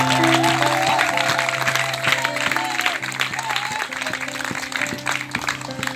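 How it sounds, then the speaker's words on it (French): Congregation clapping at a Celestial Christian church wedding in Ghana, loud sustained applause and cheering from a crowd over steady music with sustained tones, close and dense throughout. "Si tu aimes Jésus-Christ, acclame le Seigneur."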